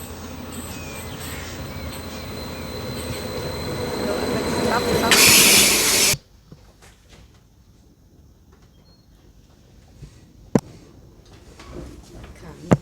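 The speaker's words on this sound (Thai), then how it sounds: "รถไฟมาแล้วค่ะ" A loud rumbling Norwegian train on the Porsgrunn–Larvik line roars past with screeching wheels and a hissing burst, then cuts off abruptly to a quiet platform with faint clicks and a sharp knock.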